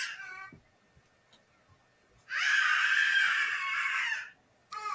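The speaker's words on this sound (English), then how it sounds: "that is my son screaming like a madman" A young boy screams wildly at home in a long, loud, high-pitched burst lasting about two seconds, preceded by a shorter cry and quiet gaps.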